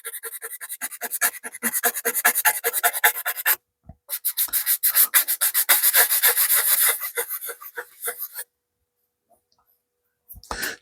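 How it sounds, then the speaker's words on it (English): Rapid rhythmic rasping strokes of a sanding sponge smoothing a Mustang's car body, close and bright, pausing briefly twice before stopping near the end. "Now I'll go over with the sanding sponge to try to smooth that out."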